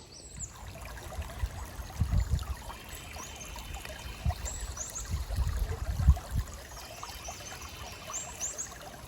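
A creek in the Uwharrie backcountry runs steadily with a soft trickling wash, faint and continuous, with a few gentle low bumps and distant bird chirps.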